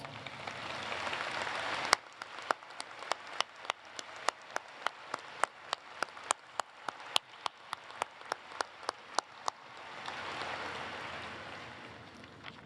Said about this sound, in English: give our graduates a chance to thank you with a round of applause